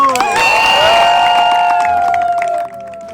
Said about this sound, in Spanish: Ese aplauso, ese grito.